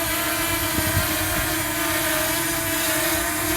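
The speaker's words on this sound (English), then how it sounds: "I really like to look at drone hovering in mid-air" A DJI Mini 2 SE drone hovers in mid-air above a construction site, giving a steady, close, even propeller whine with a constant pitch, under light wind rumble and no talk.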